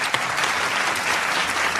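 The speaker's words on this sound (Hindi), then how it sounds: "ये तो आमिर भाई के लिए बहुत सारी तालियां बजाएं" An audience at a televised talk event gives a dense burst of steady applause for a man named Aamir, many hands clapping evenly at close range.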